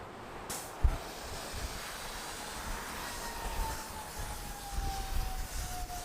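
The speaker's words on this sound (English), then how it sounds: "fire truck's coming" A fire truck siren wails faintly in the distance with a slowly falling tone, half buried under steady gusting wind noise.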